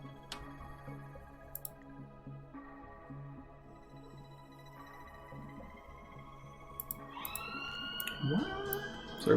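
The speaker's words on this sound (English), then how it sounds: "Sorry about the sirens." Faint sirens rise and wail from outside, growing louder toward the end over a quiet indoor background with steady tonal hums and occasional clicks.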